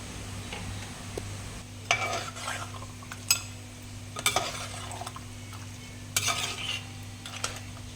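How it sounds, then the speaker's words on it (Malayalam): A spoon stirs garam masala through Malappuram-style beef curry in a pot, giving scattered scraping and clinking strokes over a low steady hum, with a faint sizzle underneath. "ഇനി ഒരു ടേബിൾ സ്പൂൺ ഗരം മസാലയും കൂടി മേലെ വിതറി നന്നായി മിക്സ് ചെയ്ത് കൊടുക്കാം"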